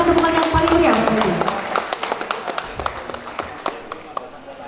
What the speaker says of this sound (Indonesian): Kita berikan tepukan yang paling meriah.